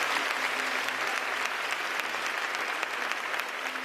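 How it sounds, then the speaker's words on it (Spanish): A theatre audience at a festival show in Valladolid breaks into dense, sustained applause, many hands clapping together at a steady loud level for the whole stretch. "Gracias por este aplauso nada forzado"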